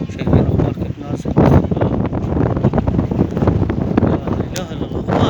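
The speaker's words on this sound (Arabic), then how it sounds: "المشكلة الرياح السطحية دي هي اللي تشيل السحب" Strong surface wind during a black dust storm roars and buffets steadily across the whole stretch, loud and close like gusts hitting the microphone, with no clear voices.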